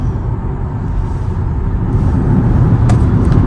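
A Tesla car pulls away as the accelerator is pressed, giving a steady low rumble of road and motor noise that swells gradually louder over a few seconds, with no talking.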